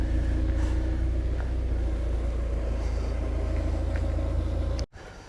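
A Porsche 968 exhaust gives a steady, deep burble at idle, close and continuous, cutting off abruptly near the end.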